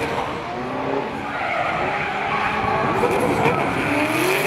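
Drift car tires skid and squeal through a big right-hand corner at Pukekohe Park Raceway during a pro drift series qualifying round, a loud sustained screech over a roaring engine.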